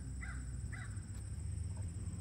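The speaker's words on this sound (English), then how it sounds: "Hear that crow?" A crow calls outdoors with two distinct caws in quick succession, moderately distant, over steady low background noise and faint hum.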